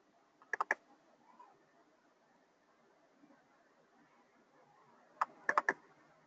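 Two quick bursts of mouse or key clicks sound close and crisp against a quiet room, the first near the start and the second cluster toward the end.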